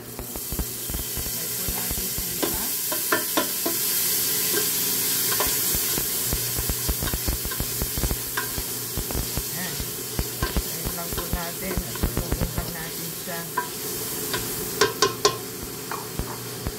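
Pork sizzles and fries in a pan with a steady loud hiss, while frequent scraping and clattering strokes from stirring break through irregularly near the mic.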